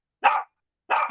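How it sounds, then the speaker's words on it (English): A dog barking outdoors during a walk, two short sharp barks spaced about half a second apart, close and clear against silence. "Couple out walking their dog."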